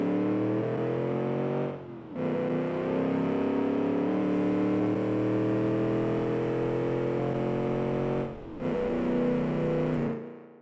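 Car engine with a heavy four-speed gearbox revving loudly through the gears, steady droning pulls broken by two brief dips at the shifts, with no talk over it.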